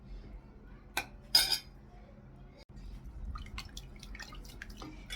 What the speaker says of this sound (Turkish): Bunu da bir suyla çalkalayayım.